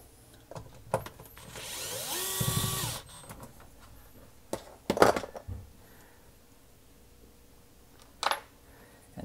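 Work on a KitchenAid dishwasher's grinder cover with a small Torx screw: scattered clicks and metallic taps, a brief whirring power-tool burst, then a clatter of small parts, all close and without talk.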